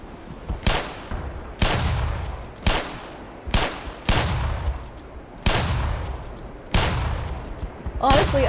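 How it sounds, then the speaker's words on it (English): Gunfire in the video game Black Mesa, a Half-Life fan remake, shooting at mines from a distance: seven loud, sharp blasts spaced about a second apart, each with a booming tail, close and punchy. "I'm just really enjoying shooting at what I think are mines from a distance"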